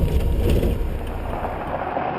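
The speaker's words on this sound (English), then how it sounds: "when you go over bumps, it sounds like an Airbus taking off" A Datsun 510 estate drives over bumps, giving a loud, continuous low rumble and rattle that stays steady throughout and eases slightly near the end, with no voices.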